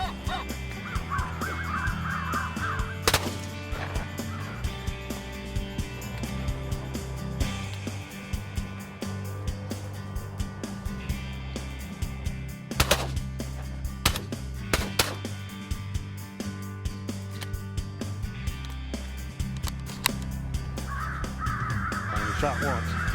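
Crows cawing repeatedly outdoors during a crow hunt in Michigan, loud calls in bursts, with a person talking throughout and a few sharp sharp bangs.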